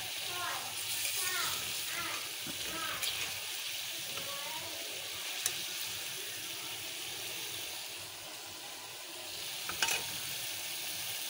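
Potatoes frying in a pan inside cooked-down masala, for a hilsa fish curry with potato and tomato: a steady close sizzle with stirring and scraping, plus a few sharp clinks.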